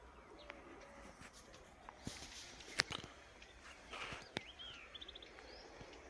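Soft pigeon coos in the distance over an outdoor background, with a few sharp taps and rustles and occasional chirps.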